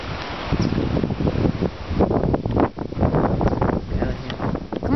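Strong wind buffets the microphone outdoors, a loud rough roar with gusty surges and rustling, and no one speaking.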